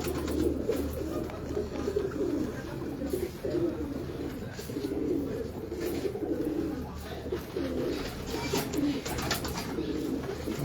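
Soft, repeated cooing from a hand-held Shah Parwazi pigeon in Lahore, low and murmuring, close by with steady background noise and no talking.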